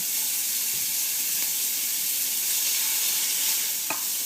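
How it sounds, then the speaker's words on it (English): A piece of steak sears in butter in a hot pan for Steak Diane, a loud, continuous close hiss of frying that stays steady throughout, with one small clink near the end and no voices. "we get our piece of steak and we just pop it straight in on top of the butter"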